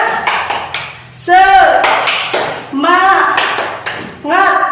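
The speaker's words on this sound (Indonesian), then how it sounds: "Yuk, tepuk semangat." A classroom of children does a rhythmic spirit clap in short patterned bursts of claps, broken up by loud, close chanting and a teacher's voice between the rounds.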